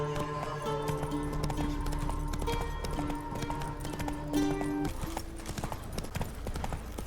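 Roach, Geralt's horse in The Witcher 3, gallops with a rapid steady clip-clop of hooves over game music, continuous and close throughout.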